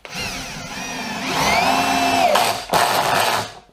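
A drill on its first torque setting drives a Turbo Gold woodscrew, a loud, close whirring motor whose pitch rises then falls as the screw sinks, with a brief stall before a final run.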